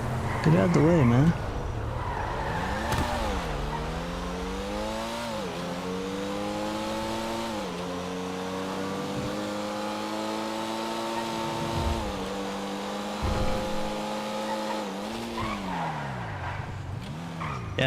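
Cars in a roleplay video game drive with a loud, continuous engine drone that rises and falls through gear shifts, mixed with tire skids and squeals, heard close and without speech.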